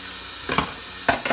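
Dishes are washed in a home kitchen, with a few sharp clinks and clatters of crockery over a steady running-water hiss, heard close with no voices.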